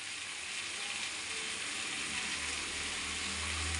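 Drumsticks frying in oil with onion and tomato in a pan make a steady, dense sizzle that runs unbroken and fairly loud throughout, with no voices.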